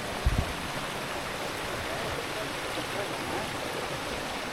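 A river flowing past a forest campsite after a typhoon, a constant broad rushing wash of water heard from a nearby dining area, with a brief low thump near the start.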